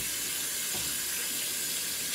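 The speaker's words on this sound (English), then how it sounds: "I gotta wash my hands." Tap water runs steadily from a faucet into a sink as hands are washed, a continuous close hiss with no talking.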